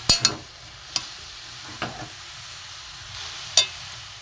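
Grated coconut and jaggery are stirred in a pan, giving a faint low sizzle with a handful of sharp spatula scrapes and taps spaced irregularly, close and without talk.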